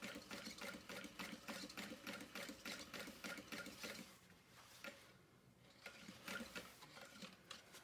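Sewing machine stitching around the opening of a leather bag made from 3-ounce leather, close and steady with a rhythmic needle patter, a brief slowdown midway, then resuming.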